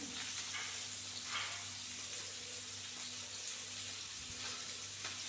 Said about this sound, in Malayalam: ഇനിയിപ്പോൾ എണ്ണ ചൂടായി വരുമ്പോൾ നമുക്ക് അതിലേക്ക് കുറച്ച് ഉലുവ ചേർത്ത് കൊടുക്കാം